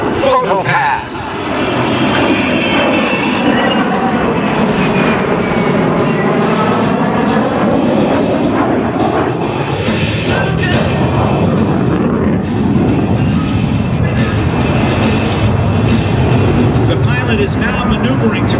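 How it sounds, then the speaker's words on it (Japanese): F-35B Lightning II fighter jet makes a loud roaring flyby at an air show display, with a rising and falling Doppler whine and sustained jet rumble, while a public-address announcer talks over it throughout. "From the right, the Lightningⅱ photo pass."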